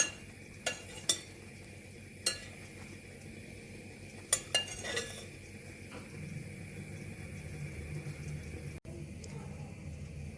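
Marshmallows melt in a pot on the stove as a spoon clinks and scrapes against the sides in a few sharp strokes, followed by a softer bubbling hiss.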